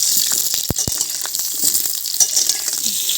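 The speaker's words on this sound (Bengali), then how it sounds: "আলুটাকে দিয়ে খুব ভালো করে ভেজে নেব আলুটাকে খুব ভালো করে লাল লাল করে আমি ভেজে নেব" Potato pieces frying in hot oil in a cooking pot while khichuri is prepared with mutton fat, giving a loud, steady close-up sizzle broken by a couple of sharp knocks from a stirring spoon.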